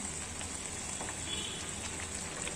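Pineapple chutney cooking in an uncovered pan gives off a steady, close sizzling and bubbling hiss as it is stirred, with faint scraping and no talk.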